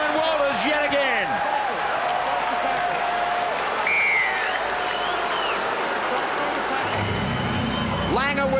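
Rugby league stadium crowd roaring in disapproval at a New Zealand versus Queensland match, a dense, loud wash of voices with whistles and jeers sustained throughout.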